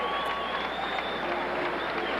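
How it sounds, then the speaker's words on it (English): A large boxing crowd roars continuously, with scattered applause mixed into a dense wash of jeers and boos. "Smattering of applause for Hembrick, but more boos in the crowd"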